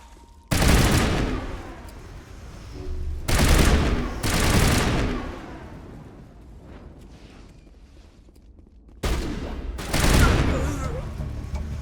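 Sci-fi weapon gunfire in the Mass Effect video game comes as several loud sustained volleys of rapid shots with booming low impacts, separated by short quieter stretches with distant rumbles.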